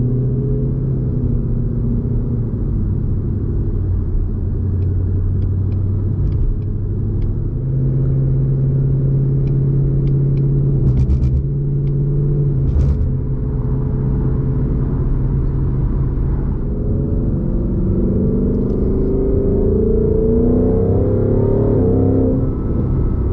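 A 2020 Ford Mustang GT with a Borla exhaust drives at night, its deep engine rumble steady and loud from inside the car, rising and easing with the throttle throughout.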